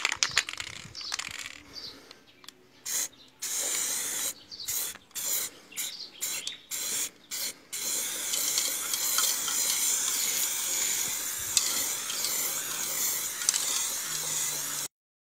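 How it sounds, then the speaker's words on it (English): A spray can sprays primer onto an underhood part of a Cefiro A31, delivered in several short hissing bursts followed by one long sustained spray, loud and close, with no talking. "pwede na natin siyang spray ng primer"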